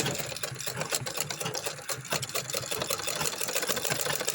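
A sewing machine stitches a sleeve with a fast, even mechanical chatter, close and continuous from start to finish.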